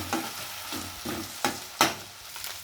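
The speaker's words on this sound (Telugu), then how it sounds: "పచ్చిమిర్చి, అల్లం కూడా బాగా ఫ్రై అయిందండి." Green chilies and grated ginger fry in hot oil with a steady sizzle, punctuated by about five spatula scrapes and stirs at roughly half-second intervals, close up with no talking.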